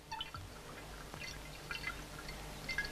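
Wine is poured slowly and steadily into a decanter, a soft, close trickle with faint drips and small glassy tinkles.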